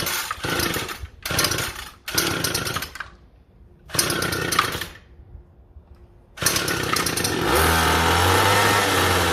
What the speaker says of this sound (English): Give it a couple pulls. Now we go to half choke. And it should start.